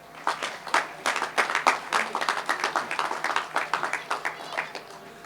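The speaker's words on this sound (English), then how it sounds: "I think that is worth a big round of applause." Audience applause at the India Fest Townsville 2026 inauguration ceremony at Riverway, a large outdoor community festival crowd clapping steadily in quick rhythmic bursts for about five seconds, moderately loud with some murmured voices.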